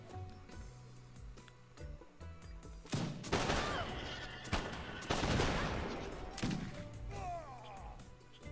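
Rifle gunfire from Wakina rifles and skirmishers in an Age of Empires 3 Wars of Liberty battle, with dense bursts of crackling volleys at close range and overlapping game battle noise between them.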